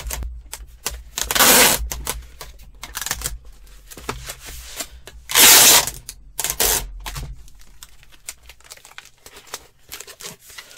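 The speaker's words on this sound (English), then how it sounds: "Then I'm just gonna tape it up here." Packing tape pulled and pressed onto a shipping package: two loud, long screeching tape rips amid crinkling and patting handling noises, close up with no talking.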